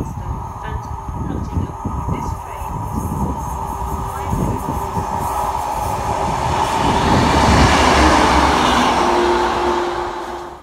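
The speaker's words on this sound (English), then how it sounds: "a network rail train coming from Market Harbour train station going to London" A passenger train passes through Market Harborough station, with rhythmic wheel clatter and a rising roar that swells loudly near the end before easing off.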